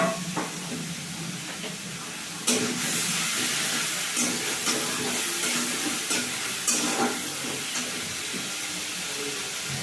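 Taro stir-fries in a pan with ginger paste, giving a dense, loud hiss of sizzling with occasional stirring scrapes, continuous from start to end.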